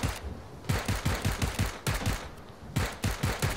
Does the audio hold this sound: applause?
no